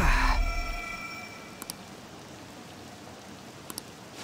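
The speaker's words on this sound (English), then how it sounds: "This rain ain't too bad." Rain falls in the video game Persona 5 as a faint, steady hiss, with a louder swell at the start and a couple of brief light clicks, and no voices.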